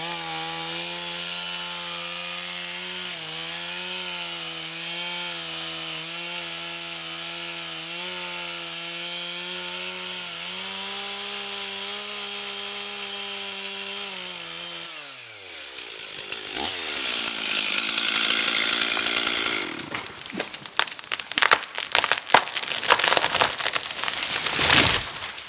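A chainsaw idles with a steady, wavering engine drone during tree felling, then revs hard and bites into the trunk, giving loud, rough, choppy cutting noise for the last ten seconds.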